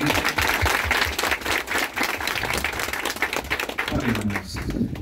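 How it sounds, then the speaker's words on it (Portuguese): A crowd claps loudly and steadily for several seconds at a religious prayer gathering during a bull-catching event in Serrita, Brazil, dense applause that begins to thin near the end. "Uma salva de palmas para nosso Senhor Jesus"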